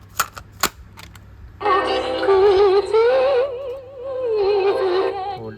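A few sharp mechanical clicks, then tinny, narrow-sounding music with a wavering melody plays from a Sony TCM-48 portable cassette player's built-in speaker, briefly dipping in the middle.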